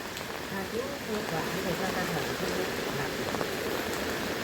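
Steady rain falls around a spot where fish are being caught and sorted with a trap net, a dense even hiss that stays constant throughout, with a voice talking faintly underneath.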